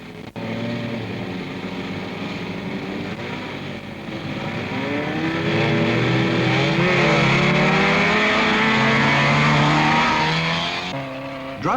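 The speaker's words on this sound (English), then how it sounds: "Driving an open special gives a greater feeling of speed, like a Grand Prix on grass." Racing cars in a 1970s autocross, including open specials, roar loudly and continuously across a grass course, engines revving and building in pitch as they accelerate past nearby, with no talk.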